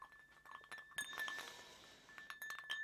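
An ice cube knocks against a glass of spiced rum, giving bright, light clinks scattered through a quiet room, close and delicate with soft rattling between the taps.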